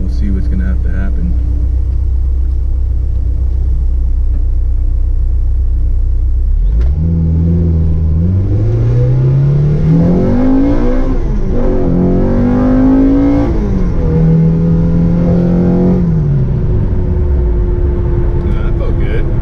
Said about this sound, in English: Can you guys hear the intake? It sounds nasty with the velocity stack on there.